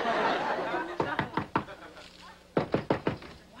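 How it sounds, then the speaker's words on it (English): Knuckles rap on a door in two quick bursts of four sharp knocks each, close and distinct, separated by a short pause in an indoor sitcom scene, with faint audience chuckles underneath. "Why'd you knock? I just knocked."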